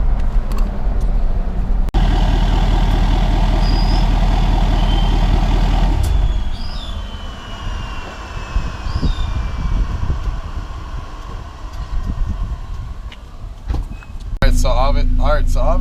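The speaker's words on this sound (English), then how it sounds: "You guys saw we went and test drove the truck" A 2012 Ford F250 with a 6.7L Powerstroke diesel engine rumbles steadily at close range on a test drive, its loud drone easing partway through before a louder burst near the end, with speech mixed in.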